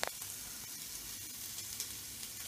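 Onions and a spice blend fry in a pan after sage was fried in it, a soft, steady sizzle with faint crackles and a couple of small stirring knocks, close and quiet.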